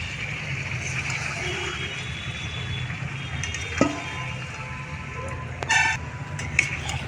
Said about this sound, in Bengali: চিকেনটাকে একটু আমি নেড়ে নেবো ভালো করে।